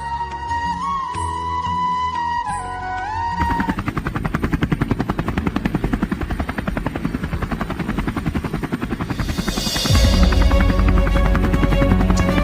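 A cartoon helicopter roars loudly and steadily, its rotor pulsing in a rapid rhythmic chop that carries through the whole stretch and swells louder near the end, with no one talking.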